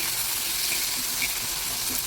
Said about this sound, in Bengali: দেখো এটা একটু ভাজা ভাজা করবো,